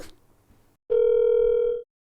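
A single steady telephone dial tone sounds loud and clear for about a second during an outgoing phone call, after a brief quiet stretch with faint background noise.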